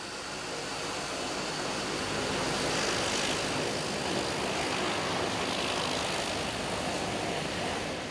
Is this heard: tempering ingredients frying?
no